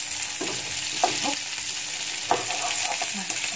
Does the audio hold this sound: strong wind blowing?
no